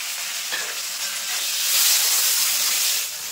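Chopped tomato and salt hit a hot pan with a loud, steady hiss, the sizzle swelling midway and then easing.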